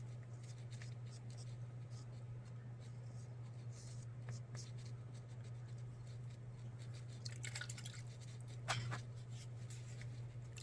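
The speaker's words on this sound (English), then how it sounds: "I'm going to stir it up." A gooey, wet, chartreuse-colored mixture being stirred, soft quiet squishing and dabbing sounds in irregular strokes over a steady low hum, faint and close.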